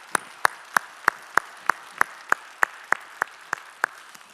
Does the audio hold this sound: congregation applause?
yes